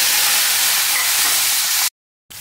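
Marinated prawns hit hot mustard oil in a village-style kitchen, giving a loud, steady broadband sizzle that holds evenly, then cuts to silence briefly before resuming.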